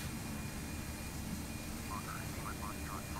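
The propeller engines of a Fokker 50 turboprop drone in a steady, even hum, heard from outside the aircraft in the Carenado flight simulator game, with a voice talking faintly over the constant engine noise.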